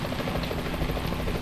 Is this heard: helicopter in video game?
yes